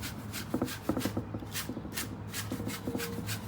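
Soft bristle brush sweeping eraser dust off a painted wooden fence board sign, a string of quiet rubbing and swishing strokes in short bursts, close and low.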